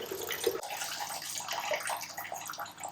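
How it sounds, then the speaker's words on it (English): A sink filling from a running tap with reverse-osmosis water, a continuous close splashing gush that stays steady throughout with no voices. "We're going to let the sink fill up and get my parts per million where I want it."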